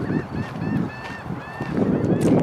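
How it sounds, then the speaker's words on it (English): Geese by shallow water on a greenway, honking repeatedly in a nasal, overlapping chorus over soft ambient rumble, moderately close. "There are birds everywhere down here."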